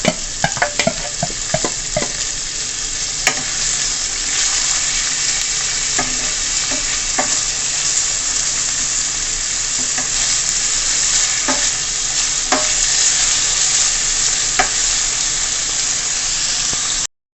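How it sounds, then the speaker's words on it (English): Herbs sautéing in a hot pan for an ackee and saltfish pizza, a steady close sizzle with scattered sharp clicks and scrapes of stirring, no talking. "So now that my herbs are sauteed"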